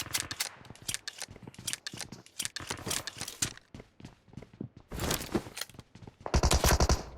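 Gunfire in PUBG Mobile with rapid bursts of close, sharp shots in uneven clusters and a dense, loud automatic volley at the end, with no speech.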